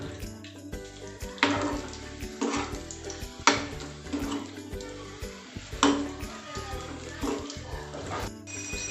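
Whole boiled eggs fry in hot oil in a pan for an egg masala gravy, giving a low steady sizzle broken by a few louder scraping stirs.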